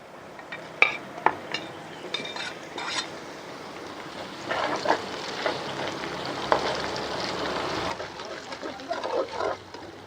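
Chicken sizzling and frying in a pan with browned onions, with metal spoon scrapes and clinks against the pan over a steady sizzle, moderately close.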